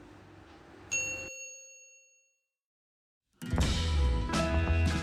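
A bright bell-like notification ding rings out and fades, followed by silence, then a loud burst of clattering noise.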